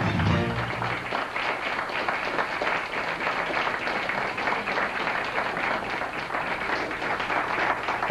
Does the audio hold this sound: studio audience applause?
yes